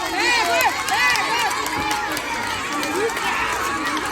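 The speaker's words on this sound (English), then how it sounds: "Everybody put your hands together for the participants" A crowd at a school athletic meet's race cheers and shouts with excited high voices throughout, a steady, busy roar of spectators with no distinct clapping standing out.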